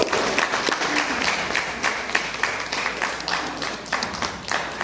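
Sustained applause from an audience at an outdoor kayaking challenge award ceremony, a dense, even wash of many hands clapping at steady loudness for about five seconds, with a few sharper claps standing out.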